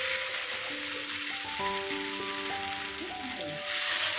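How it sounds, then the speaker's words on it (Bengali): Potatoes fry with spice paste in a pan, a steady hissing sizzle throughout, with a melodic tune playing over it. "ভালো করে মশলাটার সাথে আলুটা কষিয়ে ভেজে নিচ্ছি।"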